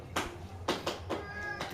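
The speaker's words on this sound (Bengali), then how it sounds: "অসভ্য একটা বিড়াল" A cat meows four times at a close distance, the calls short and evenly spaced, quiet overall with no talking.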